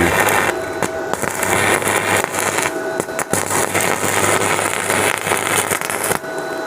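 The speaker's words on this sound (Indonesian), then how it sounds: "Di sini sudah bisa mengelas panjang tanpa jeglek lagi." An electric welder runs a long continuous weld, a steady loud crackling buzz with a mains hum beneath, broken by a few brief pauses and sharp pops.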